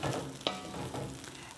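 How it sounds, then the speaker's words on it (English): Vegetable fried rice with spinach being stirred in a hot pan: a soft scrape of the utensil and a steady low sizzle, brief and fairly faint. "So we just need to stir that around until it kind of gets mixed in."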